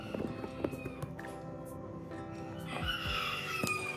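Shrill little calls from a baby bird repeat over a muffled, noisy background, fairly close and moderately loud.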